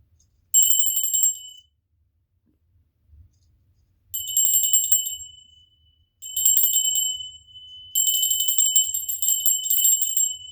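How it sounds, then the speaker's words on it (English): A small bell is rung in a quiet indoor space. It gives bright, ringing bursts, one short ring and then several longer rings, each fading into near silence between strikes. "We're going to ring a bell for a minute."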